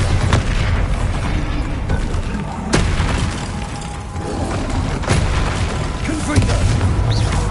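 Spell explosions and combat effects from Hogwarts Legacy form a dense, continuous barrage with booming bursts around the middle and near the end, over a thick low rumble and some voices.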